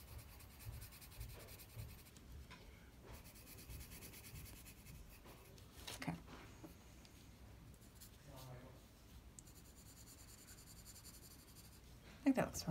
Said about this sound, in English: We could just use our drawing pencil.